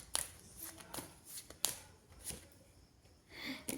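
Tarot cards shuffled and drawn by hand, giving a string of soft, brief riffles and slaps that stay faint and close, with quiet pauses between them and no voices.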